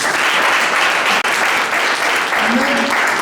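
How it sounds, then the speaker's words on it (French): Church congregation clapping together in steady, dense applause that fills the space loud and close, with a brief dip mid-way and faint voices mixed in underneath. "Nous applaudissons pour le Seigneur"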